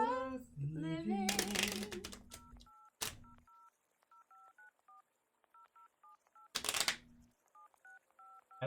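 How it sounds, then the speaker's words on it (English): Telephone dialing tones in a game, a series of short paired beeps in irregular bursts, clear and isolated between louder musical swells. "Sounds like it's like dialing a phone."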